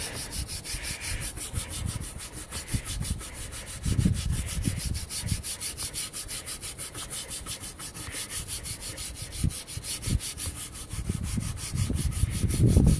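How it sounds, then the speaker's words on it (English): A brush scrubs teak cleaner into the wooden plank of a teak and metal garden bench, a continuous close, rasping back-and-forth rub with a few firmer strokes. "just take a bit of the teak cleaner and then scrub it into the wood"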